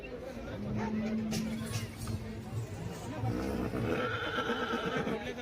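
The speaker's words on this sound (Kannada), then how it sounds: "ನೋಡಿ ಅದೇ ಕುದುರೆ ಇಲ್ಲಿ" A horse at a livestock, poultry and fish fair whinnies with a wavering cry amid a steady murmur of crowd chatter and people talking nearby.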